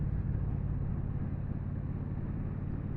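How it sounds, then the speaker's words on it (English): A Triumph Bonneville T120 motorcycle's engine rumbles steadily while riding, a continuous low drone with wind noise and no pauses. "This bike sure has got some torque."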